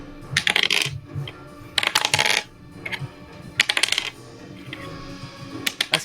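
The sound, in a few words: many dice being rolled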